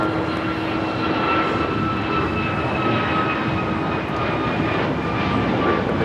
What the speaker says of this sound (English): 1229 taking off to Lihue on the MAX 8